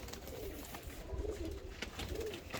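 Healthy pigeons from a fancier's flock coo softly nearby, several rolling low coos repeating at intervals over faint background noise, with no talk.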